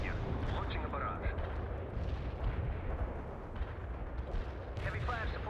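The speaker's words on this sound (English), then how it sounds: "We can deploy and lay down a heavy barrage." Artillery barrage in the video game World in Conflict: a dense, continuous rumble of heavy booming fire with scattered blasts, running steadily throughout with faint radio-style voices mixed in.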